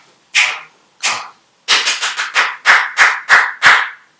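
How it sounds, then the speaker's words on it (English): Sharp hand claps ring out alone, two spaced claps followed by a quicker run of eight in an uneven rhythm, close and loud. "I'm going to clap, you clap with me."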